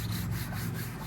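A Mitsubishi Mirage car body is sanded before a re-clear, a continuous close rough rubbing and scraping that holds steady through the short clip, with no talking.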